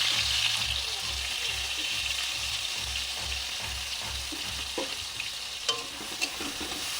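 Onion and chili stirred and fried in a pan on a gas stove, with a steady hiss of sizzling oil and rhythmic scraping strokes, joined later by a few sharper clinks near the end.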